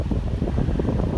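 Strong wind on a warm, windy day buffets a microphone outdoors, a loud, low, rumbling roar with constant gusty flutter throughout a short stretch.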